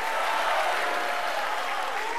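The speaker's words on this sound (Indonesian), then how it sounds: "terima kasih tepuk tangannya" Steady applause from the audience at a 2014 Indonesian presidential and vice-presidential candidate debate fills the space, dense and continuous clapping without pause.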